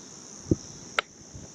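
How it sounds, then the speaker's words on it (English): A cricket gives a couple of short, sharp chirps close by at an outdoor riverside barbecue in the rain, over a steady high insect hiss. "There's a little cricket."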